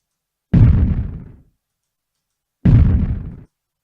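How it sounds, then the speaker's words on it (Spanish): Two separate video game explosion sound effects, each a heavy low boom that quickly fades out, with a stretch of silence between them. "finalmente el sonido de una explosión y con un fade out bastante rápido"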